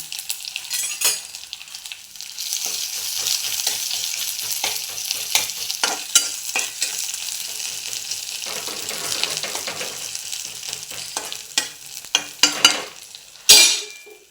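Crushed ginger and garlic frying in a pan with cumin and curry leaves, a constant close sizzle broken by repeated spatula scrapes and clatters, with a faucet briefly running near the end.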